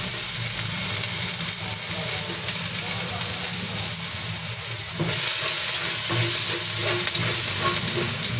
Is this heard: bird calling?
no